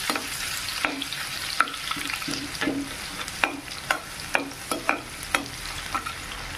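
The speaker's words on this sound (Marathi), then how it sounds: "त्याच्यातच आपण लसूण घालून घेऊ. आपण चांगलं लाल होत भाजून घेऊ." Garlic fries in oil left from frying peanuts, with a spoon scraping and stirring in repeated short strokes over a steady low sizzle. It is a close, moderately loud stovetop sound with no voices, heard while making spicy Kolhapuri bhadang.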